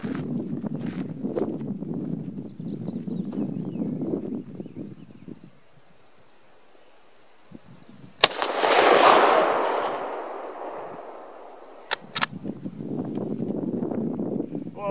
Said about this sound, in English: I'm going to take a pot shot with it today and see what happens.